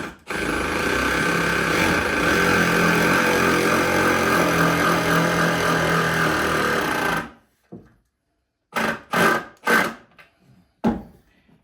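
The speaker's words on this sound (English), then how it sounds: "I'm not pre-drilling or anything, just drilling them in." A power drill whirs steadily for about seven seconds while driving a screw into wood without pre-drilling, then falls silent before a few short bursts of drilling.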